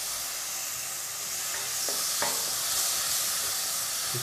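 Tomatoes drop into masala of onion, garlic and ginger fried in a pan for a marrow curry, giving a loud continuous sizzling hiss with a couple of brief spatula scrapes partway through.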